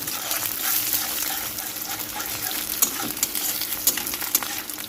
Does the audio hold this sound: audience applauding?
no